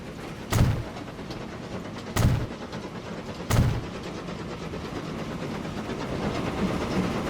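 A train rolls along a rail line in the railway building game Transport Fever 2, giving a steady rumble with three sharp, heavy clanks spaced more than a second apart, then continuing as an even running noise.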